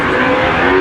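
Formula Drift race cars rev loudly in a short, dense burst of sustained engine roar.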